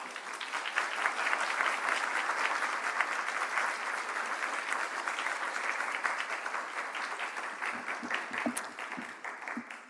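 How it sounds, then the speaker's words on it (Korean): A church congregation applauds to welcome a missionary speaker, a full, even burst of clapping from many hands that continues steadily for about ten seconds and thins slightly at the close. "우리 박수로 환영하겠습니다."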